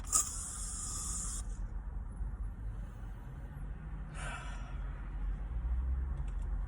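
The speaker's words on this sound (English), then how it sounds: "Spray it before she get in." A short burst of fragrance spray hisses inside a car at the start, followed by a second brief spray a few seconds later, over a steady low background rumble.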